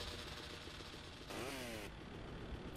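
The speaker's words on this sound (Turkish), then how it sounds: "San Andreas'taki aynı motor sesi." A motorcycle engine in GTA Vice City revs briefly, a rising buzzy whine lasting about half a second over steady game background noise, near and moderately loud.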